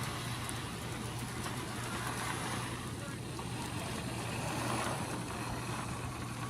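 An HO scale model locomotive runs along its track with a steady, low motor hum and a continuous rushing rumble, holding even in level for several seconds.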